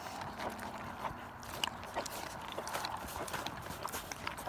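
Horses eating grain at feeding time, a steady close crunching and chewing with soft muzzle rustles and occasional light knocks against a feed pan, continuous over low background noise.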